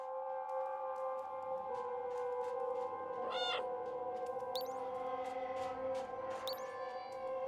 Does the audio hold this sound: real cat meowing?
yes